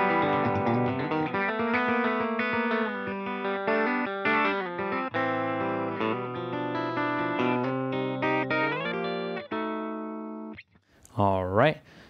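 A dry electric guitar signal runs straight through a Roland GP-16 with the compressor switched off, playing ringing chords and single notes clearly and evenly up close, then stopping, followed by a brief sliding squeal.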